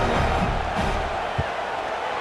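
A stadium crowd roars at a college football game between Arkansas and Georgia in a video game, a steady wash of cheering with a faint thump partway through.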